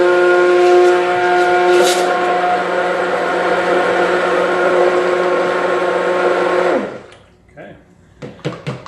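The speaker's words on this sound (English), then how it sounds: "she just whipped it using an immersion blender with a whisk attachment" Immersion blender with a whisk attachment whipping Keto Chow pudding, a loud steady motor whir with a tonal hum for several seconds before it cuts off and winds down, followed by a few knocks and clatters.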